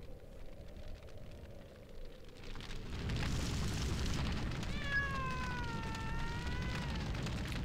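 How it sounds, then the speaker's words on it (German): A cat meows in the firefighting rescue video game Emergency 2013, set in Berlin at the Brandenburg Gate, several drawn-out wavering meows rising over a steady rumble of game noise and fire crackle. "Ich glaube, ich habe eine Katze gehört."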